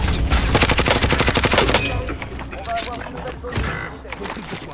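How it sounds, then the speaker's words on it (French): Rapid bursts of automatic gunfire in a battle royale video game, loud and dense at first and then thinning to scattered, more distant shots, with players talking over it. "ça tire encore"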